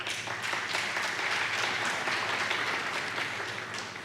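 A commencement ceremony crowd breaks into sustained applause, a dense, even wash of clapping that holds steady for several seconds before easing slightly.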